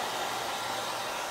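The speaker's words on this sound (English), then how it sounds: "That was my hair dryer." A hair dryer blows with a steady, loud whooshing hiss, running continuously and alone.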